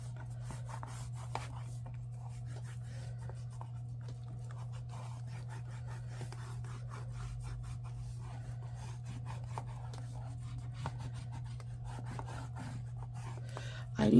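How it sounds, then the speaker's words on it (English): Pencil marks are rubbed out of a paper bullet-journal planner with an eraser in short, faint rasping strokes over a steady low hum. "Let me go ahead and erase while I'm here."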